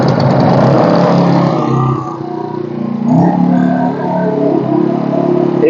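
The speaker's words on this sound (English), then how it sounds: "I will put this generator on again so you guys take cognizance of this one more time" An inverter generator runs under load, a loud, steady engine drone that dips briefly and then rises again as the load changes.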